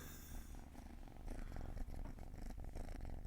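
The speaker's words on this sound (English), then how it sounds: "I'm sure everyone has been able to hear him purring the entire time because it's so loud." A cat held right up against a microphone purrs loudly and continuously, a close, rumbling, rhythmic vibration that fills the whole stretch without any talk.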